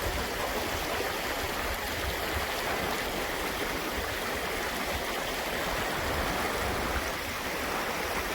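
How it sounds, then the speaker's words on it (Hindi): A water stream flowing down from Gaurikund on the Adi Kailash route rushes steadily and loudly close by, a dense unbroken roar of moving water with no voices. "गौरीकुंड से आता हुआ जल तो नीचे जाकर किसी सहायक नदी में मिलेगा"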